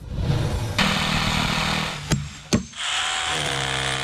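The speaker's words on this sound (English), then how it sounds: "The digging and drilling, a show of gratitude." Power drill in use during a home improvement project done for a veteran outdoors, a steady loud whirring run that cuts out briefly with two sharp knocks before resuming.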